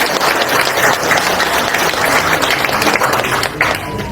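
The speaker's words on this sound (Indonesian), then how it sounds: "tepuk tangan untuk semangat itu" Loud, close audience applause at a political party gathering, a dense roar of many hands clapping continuously for over four seconds with a faint voice underneath.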